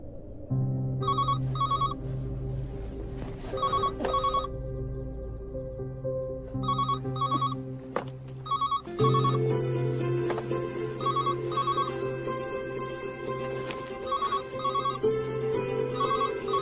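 A telephone rings in repeated double bursts of electronic tones, loud and close, over a sustained background music bed, with no talk.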